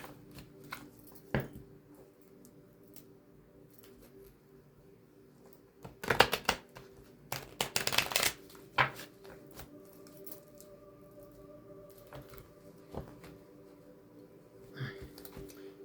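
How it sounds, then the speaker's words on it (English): Tarot cards shuffled by hand in two short bursts, a riffling flurry followed by a second, longer run, fairly close and otherwise quiet apart from faint background hum. "three shuffles."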